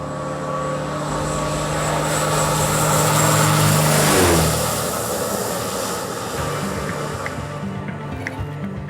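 A small aircraft comes in to land in a remote setting: a loud, steady engine drone builds, sweeps down in pitch as the plane passes close by, then continues more evenly, with no talking.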